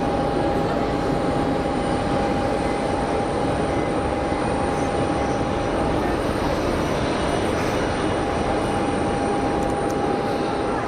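Citation 2 business jet on short final at Geneva Airport, a steady broadband jet roar with a sustained whine, loud and continuous throughout, with no talk.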